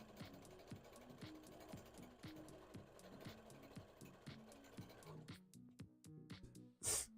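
A sewing machine stitching a seam runs in a steady, close mechanical rhythm for about five seconds, then stops, leaving a few faint clicks and a brief louder noise at the end.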